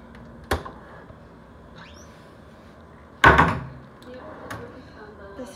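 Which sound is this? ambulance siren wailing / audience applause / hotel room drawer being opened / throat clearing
hotel room drawer being opened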